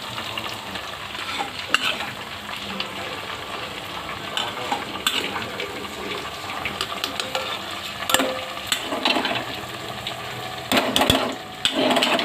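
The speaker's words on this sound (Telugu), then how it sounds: "డీప్ ఫ్రై అయిన చేపలను వేపిన ఉల్లిపాయ ముక్కలను తీసుకొచ్చి దీంట్లో కలపాలి" Deep-fried fish and fried onion pieces seasoned with turmeric, salt and chili are tossed and stirred together in a pan. There is a continuous sizzle, with utensil scrapes and clinks scattered throughout and a louder burst of stirring near the end. No one speaks.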